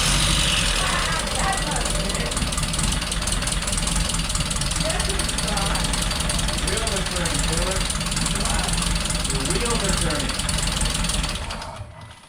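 Mitsubishi Eclipse with a 4G64 engine running loudly up close after an engine replacement, a rough, steady idle with a knocking undertone that continues for several seconds before cutting off, with people talking over it.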